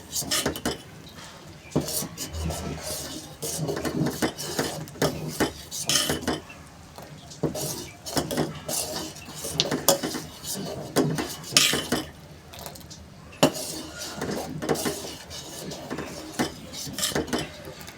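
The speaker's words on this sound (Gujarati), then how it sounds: "કન્ટિન્યુ આવી રીતે હલાવતા રહેવાનું છે, એટલે દાળ નીચે તરિયામાં ચોંટી ના જાય" A spoon stirs Rajasthani urad dal in a pot, producing steady repeated metallic scrapes and taps against the pot for the whole stretch, close and moderately loud.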